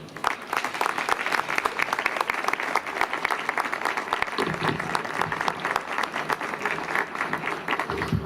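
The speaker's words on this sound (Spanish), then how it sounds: "Un fuerte aplauso para él" A hall audience at the opening of the Cuenca Lee 2023 book fair gives a strong round of applause for the author Javier Cercas, dense, even clapping sustained throughout.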